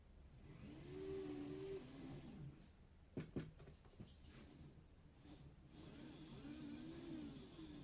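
The electric motor of a model locomotive whines as its wheels spin on a wheel-cleaning pad set on the rails, a faint rising and falling hum with a few sharp clicks and rattles in the middle.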